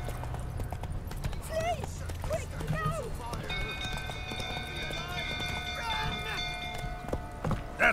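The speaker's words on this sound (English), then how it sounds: "unless you want to get trampled by my horse here." Horse hooves clip-clop at a quick gallop through a crowded street in The Witcher 3, sounding close and rhythmic beneath overlapping background voices and chatter.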